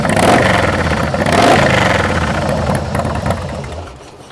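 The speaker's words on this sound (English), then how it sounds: "it does sound like they probably took the baffles out of the stock exhaust system" A Harley-Davidson Softail Slim S with its 110 engine and baffles removed from the stock exhaust revs up close and loud, a deep throaty rumble swelling twice before settling back toward idle.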